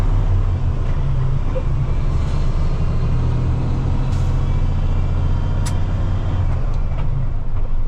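A heavily loaded semi truck pulling a trailer slows toward a stop sign, its deep engine rumble steady and close, with sharp hisses of air brakes cutting in several times toward the end.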